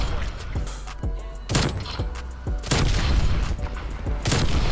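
Explosions and gunfire from the video game Call of Duty Cold War boom and crack in rapid irregular bursts, loud and dense throughout, with repeated heavy impacts layered over constant battle noise.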